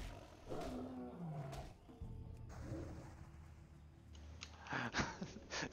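A non-elite tiger pet in World of Warcraft Classic, fought near Scarlet Monastery, lets out growling roars, with a couple of deep snarling calls followed by game combat noise and hits.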